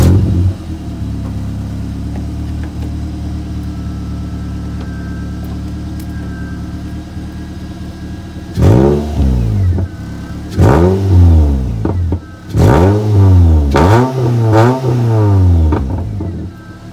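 A Ford Fiesta ST150 engine with the exhaust removed, no mid or back box, revs hard in a series of loud, raspy bursts after a steady idle, each rev rising and falling sharply.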